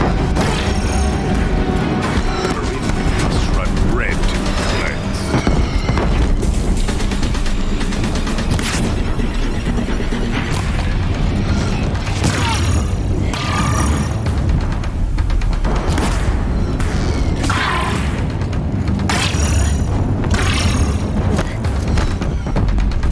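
Constant roaring crashes and booms as a bridge gives way under Deathbringer machine fire in the Horizon video game, a dense, loud, unbroken rumble with sharper impacts scattered through it.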